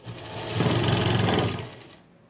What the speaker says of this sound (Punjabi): ਐਵੇਂ ਆਪਾਂ ਸਲਾਈ ਲਗਾਉਂਦੇ ਜਾਣਾ ਠੀਕ ਹੈ ਜੀ